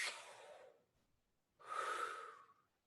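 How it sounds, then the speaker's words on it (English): Two deep, audible breaths, a long airy inhale-like rush, then a pause and a second strong breath, taken as a trombonist's warm-up before playing, close and alone. "Breathe in, breathe out, breathe in."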